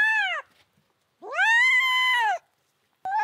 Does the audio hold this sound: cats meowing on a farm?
yes